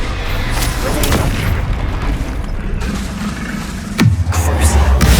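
Booming spell explosions in the video game Hogwarts Legacy, a dense, loud, continuous rumble of blasts with a sharp new impact near the end, no talk over it.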